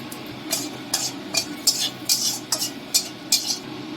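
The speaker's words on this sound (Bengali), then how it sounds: "দিচ্ছি তেলে 5 ফোড়ন, একটা শুকনো লঙ্কা" Five-spice seeds and a dried chili hit hot oil while cooking a tangy hilsa fish curry with mango, with a soft sizzle under a run of sharp, rhythmic metal clinks and scrapes from a stirring utensil against the pan.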